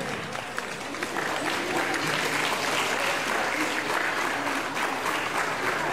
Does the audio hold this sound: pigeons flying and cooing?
no